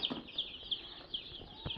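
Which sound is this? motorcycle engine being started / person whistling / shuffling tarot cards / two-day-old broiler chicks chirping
two-day-old broiler chicks chirping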